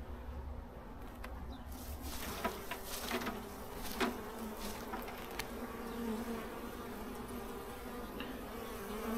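Honeybees buzz densely at an open, struggling hive, a continuous close swarm hum with occasional individual bees zipping past the microphone, no talking.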